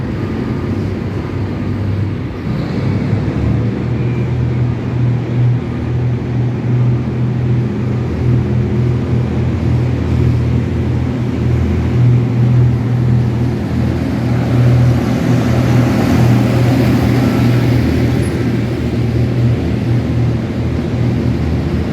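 A freight train locomotive on the Ton Samrong to Bang Sue Junction run accelerates at full throttle past a Bangkok–Nonthaburi crossing. It makes a loud, steady, close engine roar with a deep droning hum that holds unbroken throughout.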